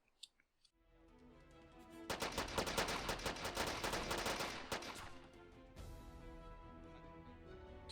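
Rapid automatic gunfire in the ArmA 3 military shooter game, with a few isolated shots first, then a dense sustained burst of loud close firing, followed by a quieter stretch of continued shooting.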